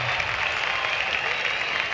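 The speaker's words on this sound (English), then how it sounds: "give him a nice hand applause to Ralph Stanley" Festival crowd applause for bluegrass banjo player Ralph Stanley at the 1968 Newport Folk Festival, a steady wash of distant handclapping from a large outdoor audience, fairly faint and continuous.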